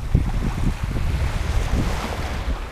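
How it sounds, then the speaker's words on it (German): Ocean surf washes in a low, rumbling, continuous hiss, heavily buffeted by wind against the microphone, with no voices. "hörst du dann wirklich das Meer rauschen?"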